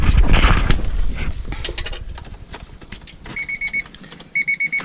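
After some rustling and mechanical handling noises, a Honda CB7 motorcycle's electronic warning chime beeps in short, evenly spaced pulses, in two quick bursts, close and clear.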